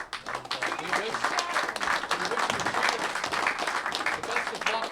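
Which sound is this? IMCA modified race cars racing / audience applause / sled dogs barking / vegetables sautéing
audience applause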